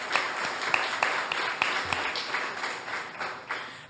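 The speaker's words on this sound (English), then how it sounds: "Round of applause for Wendy and SPT and everybody who's here." Audience applause at a poetry reading and gallery opening, a modest crowd clapping steadily with some sharp individual claps standing out, moderately close and continuing without talk.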